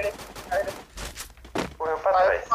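Rapid bursts of gunfire from a Free Fire battle-royale match in a tournament, sharp repeated shots stacking up loud and close, with a louder volley near the end as a player talks over the action.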